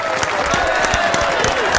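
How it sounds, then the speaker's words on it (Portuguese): Brief applause in a podcast studio welcoming a guest, a few people clapping with distinct individual claps over a steady background, fairly close and moderately loud. "aplauda esse homem aqui nos estúdios"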